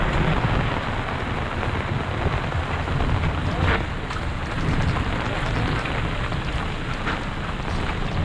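Steady heavy rain pours down outdoors at a Jamaican street food stall, a loud constant hiss with occasional drips and faint voices underneath.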